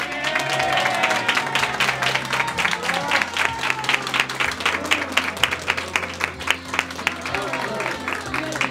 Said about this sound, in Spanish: Le vamos a dar un fortísimo aplauso a la cartera